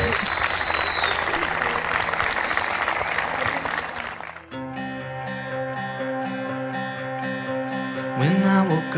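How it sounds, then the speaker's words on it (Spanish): Wedding guests clap and cheer for the newlyweds in a loud, dense burst of applause for about four seconds, then it drops away as a music track with steady beat and harmonic tones takes over. "Fuerte ese aplauso, que vivan los novios."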